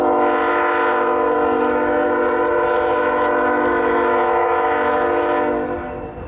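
A Norfolk Southern freight locomotive, number 4064, rumbles past through CP Bethlehem with a long, loud, sustained horn blast holding steady throughout, fading slightly at the very end.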